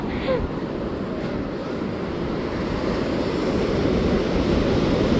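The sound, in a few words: ocean waves washing onto beach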